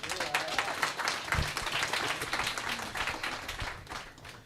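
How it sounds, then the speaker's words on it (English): An audience at a digital marketing workshop breaks into applause, a dense, sustained patter of many hands clapping up close that fades slightly toward the end. "Round of applause."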